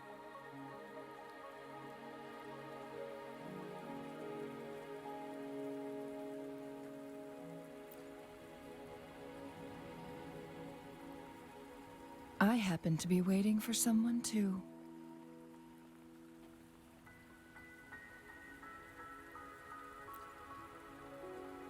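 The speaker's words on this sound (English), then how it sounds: "Are you trapped here by the rain?" Steady rain falling in the video game Wuthering Waves, a soft continuous patter on surfaces under calm spoken dialogue and a light musical backdrop, with a brief louder flurry of splashes midway.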